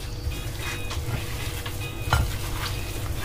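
Pork belly is stirred with lemon in a marinade, producing wet squelching and scraping sounds with occasional clinks against the bowl, close and moderately loud.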